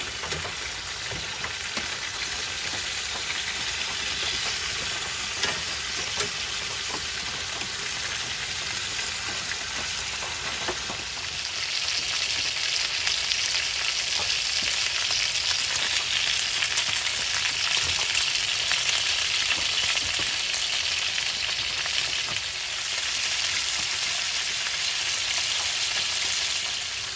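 Italian sausage and burgers fry in a cast iron skillet at a campsite, giving a loud, steady sizzle and crackle that swells partway through, with no talking.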